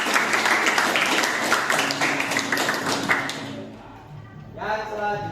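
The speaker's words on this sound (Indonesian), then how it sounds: "Tepuk tangan, Mas Ridho." A classroom of students gives a short burst of applause for a classmate, dense clapping for about three and a half seconds that fades out, followed by a teacher speaking.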